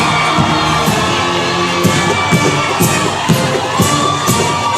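A large audience at a passing out parade cheers and shouts loudly throughout, with rhythmic bursts of applause and whoops from a dense crowd.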